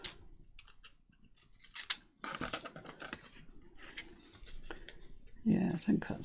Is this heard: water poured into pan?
no